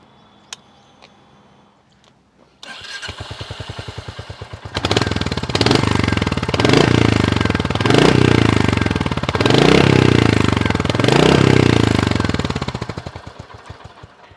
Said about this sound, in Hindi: अब चलिए हंटर का भी नोट कर लेते हैं कि कैसा हंटर का एग्जॉस्ट साउंड है